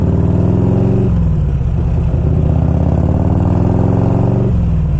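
A 1992 Harley-Davidson Electra Glide Sport idling up close, a loud steady low rumble with the pitch dipping briefly and returning, no voices.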